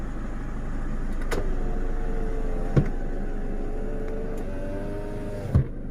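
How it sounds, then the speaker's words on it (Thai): Power windows on a manual pickup truck close one after the other, each a steady electric motor whine ending in a soft thump, heard close inside the cab against a low idle rumble. "เอากระจกขึ้นให้ผมทีครับ"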